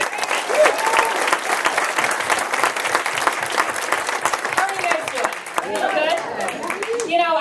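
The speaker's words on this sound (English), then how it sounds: "Can everybody give a round of applause to Omar?" A town hall crowd on campaign finance reform applauds Omar with loud, steady, close clapping that tapers off as a voice begins speaking over the last few seconds.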